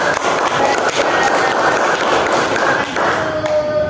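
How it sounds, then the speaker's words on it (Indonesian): A fourth grade class claps for a group in a classroom, producing loud, dense applause from many children with rhythmic thumping, close by and continuing throughout. "Kita beri tepuk tangan dulu"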